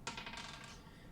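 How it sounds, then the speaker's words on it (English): Dice rolled and clattering onto a tabletop, one sharp initial impact followed by a quick rattling tumble that fades out, quiet and close with no voices. "Oh, that's a lot of dice."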